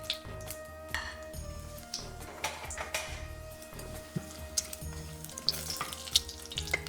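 Whole spices, including cinnamon stick, bay leaves, cardamom, black cardamom, cloves, mace, star anise and fennel, fry in hot oil in a pan with a continuous soft sizzle and occasional crackles and stirring clatter, fairly quiet.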